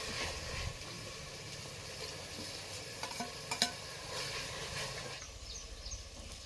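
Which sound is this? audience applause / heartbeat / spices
spices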